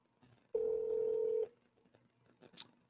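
A telephone tone sounds once as a single steady beep of about a second during a call being placed, fairly clear over a quiet background.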